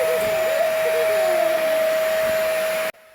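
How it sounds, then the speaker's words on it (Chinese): A vacuum cleaner sucking grass and leaves out of children's hair, a loud steady whining drone held close for nearly three seconds before cutting off abruptly. "我们用吸尘器给他们吸头发"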